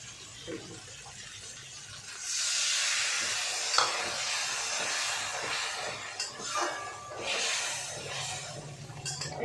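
Green chili paste sizzles loudly in a pan with fried eggplant, a steady close frying hiss with a few sharp pops and spatters, no voices.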